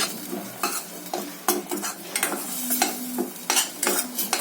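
A thick masala paste for a Malvani-style mackerel curry sizzles and fries in a pan while a spoon scrapes and stirs it in quick, irregular strokes, close and alone.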